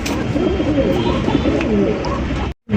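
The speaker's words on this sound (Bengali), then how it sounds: "1400 টাকায় কিন্তু আপনারা পাইতেছেন একজোড়া দেশীয় গোল্লা আপনার এটা বোম্বাই কবুতর।" Pigeons of the local Golla and Bombay breeds coo steadily and close by, several birds overlapping in a dense, continuous murmur that cuts off abruptly near the end.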